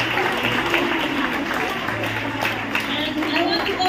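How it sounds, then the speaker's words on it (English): A church congregation claps hands together during a certificate-giving ceremony for a discipleship group. The clapping is dense and continuous with crowd noise and voices mixed in throughout. "I want every single hands to clap."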